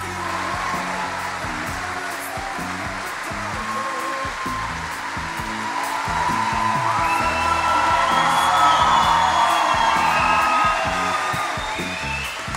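Crowd applause and cheering from a large festival audience welcoming a guest at Przystanek Woodstock, a steady dense roar of clapping with whoops and yells that swells midway and stays loud throughout.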